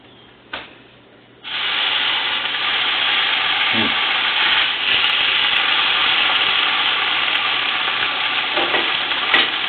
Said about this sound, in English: there's something about frying that ham up that just brings out the flavors in it